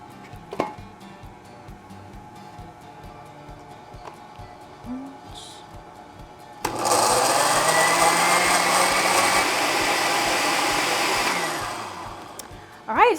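Blender whirs steadily for about five seconds, blending a blueberry mixture softened with milk, starting abruptly after quieter kitchen handling noises and tapering off near the end.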